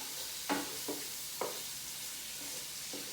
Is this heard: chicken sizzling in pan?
yes